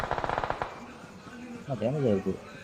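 Rapid bursts of automatic gunfire in the mobile shooter BGMI (PUBG) crackle sharply in the opening second, then fade as voices talk over the game.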